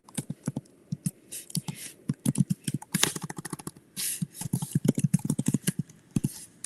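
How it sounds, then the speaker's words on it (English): Typing on a computer keyboard during a live stream, close and crisp with irregular bursts of quick keystrokes separated by short pauses. "let me type it like this."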